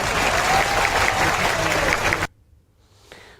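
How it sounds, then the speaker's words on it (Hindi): Dense crowd applause at a political rally in Madhya Pradesh honoring Kamal Nath, loud and sustained for about two seconds before cutting off abruptly into near silence, followed by a faint brief sound. "अब ताली कमलनाथ जी के लिए बजाओ"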